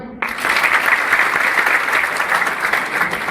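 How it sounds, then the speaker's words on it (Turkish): Crowd applause at a 30th-anniversary mechanical engineering graduation ceremony, a sudden burst of many hands clapping that stays loud and dense to the end. "Hepsine tek tek kısa alkışlar rica ediyorum."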